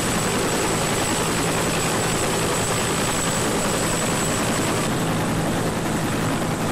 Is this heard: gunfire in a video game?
no